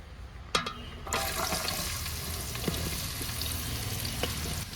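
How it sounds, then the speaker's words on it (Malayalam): Sliced onions dropped into hot oil left from frying chicken for chicken kondattam, sizzling steadily and fairly close with a sharp hiss at the start and faint clinks of stirring. "അടുത്ത് നമുക്ക് സവോള ഇട്ട് കൊടുക്കാം അതിൻ്റെ അകത്തോട്ട്."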